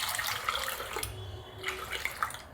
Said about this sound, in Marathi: असं एवढं पाणी ओतायचं